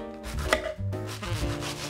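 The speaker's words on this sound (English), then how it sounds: "I cut the cabbage in half and now I'm going to shred it" A knife shreds a halved head of cabbage for Norwegian sauerkraut, giving a quick run of close, crisp slicing and crunching strokes with no talk.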